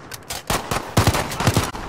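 Call of Duty Modern Warfare gunfire in a match, short loud bursts of rapid shots that crack close by in a quick uneven rhythm, with no talking.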